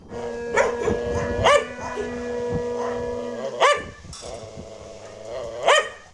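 Several sharp dog barks ring out at intervals at an animal shelter over a steady humming background, each bark loud and close, with a longer pause in the middle.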